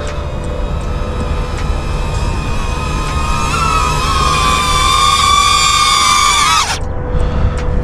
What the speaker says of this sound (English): All right, drone is coming back.